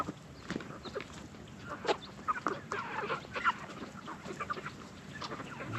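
An old rooster calls amid other fowl on a farm, with clucks and honk-like cries scattered irregularly at moderate distance over steady background noise.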